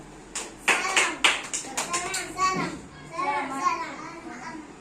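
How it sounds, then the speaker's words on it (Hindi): Young children in a classroom clap their hands in several quick bursts amid lively chatter and a voice. "वेरी गुड, ताली बजा दो"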